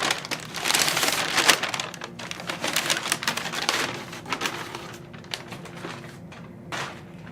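Packaging rustles and crinkles while a Schacht Matchless spinning wheel flyer, with a bobbin already mounted, is unwrapped. The crackling is close and continuous, with bursts of handling noise that taper off toward the end.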